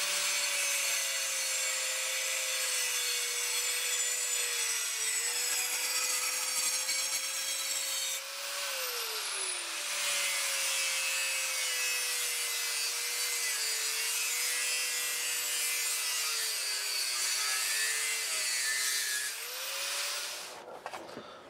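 A saw blade cuts steel for a sword blade in a long continuous stretch, steady grinding strokes with a high metallic whine, nearby and loud, with no talking.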